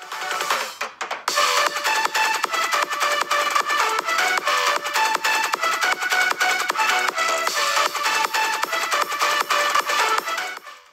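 Music plays continuously through a budget Android phone's small, tinny stereo loudspeaker with a steady beat, slightly thin and close, with no talking.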